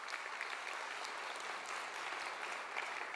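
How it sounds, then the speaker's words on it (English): Crowd applause at a mayoral matric excellence awards ceremony, an even, continuous wash of clapping heard from some distance at a low level throughout. "So let's give them a big round of applause."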